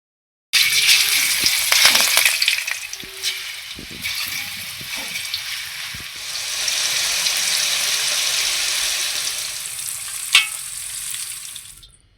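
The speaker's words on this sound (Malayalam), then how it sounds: "എണ്ണ ചൂടായി കഴിഞ്ഞാൽ ഓരോന്നോരോന്നായി ഇട്ട് കൊടുത്ത് വറുത്ത് കോരാം." Fish pieces for a homemade Kerala fish pickle fry in hot oil, giving a strong, steady sizzling hiss throughout, with a few soft clinks and scrapes near the start and a sharp tap late on, no voices.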